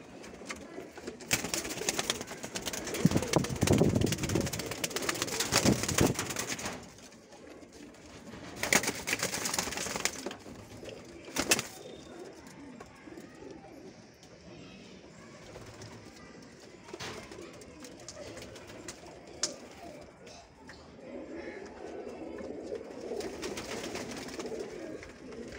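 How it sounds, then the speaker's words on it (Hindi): Madrasi pigeons for sale, cooing and stirring in a loft with soft rustling and occasional wing flutters, moderately close and continuous, with bursts of louder activity early on. "भाई ये मद्रासी कबूतर है सेल के लिए भाई"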